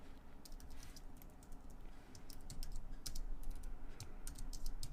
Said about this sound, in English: I'm having a real issue typing today.